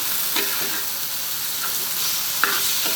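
Garlic paste frying in a pan, a steady hissing sizzle broken by a few soft stirring scrapes, close and moderately loud, no one speaking.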